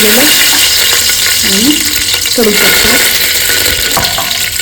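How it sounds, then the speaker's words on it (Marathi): Mustard seeds, cumin and green chillies sizzle in very hot oil, giving a loud continuous frying hiss close to the mic, with a few sharp crackles and some stirring scrapes. "चांगलं कडकडीत गरम झाले मोहरी जिरं एक दोन हिरव्या मिरच्या"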